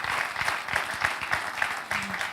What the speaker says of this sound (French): On applaudit, Mombi.